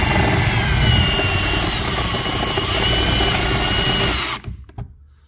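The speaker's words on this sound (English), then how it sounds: "just drill it till the head of it comes off there" A power drill whines steadily while drilling out aluminum rivets on a 2013 Hyundai Elantra. The drilling runs loud and close for about four seconds, then cuts off, leaving a few brief clicks and a spinning-down tail.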